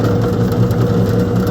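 A power drill boring a 3/8-inch hole in wood for a beehive leg, a steady motor whir held under load throughout, loud and close with no pauses.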